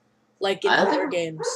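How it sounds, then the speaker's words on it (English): Dogs bark in the background while someone speaks over them, with a few yips and bow-wow barks mixed under the close talk. "Sorry for the dogs barking in the background."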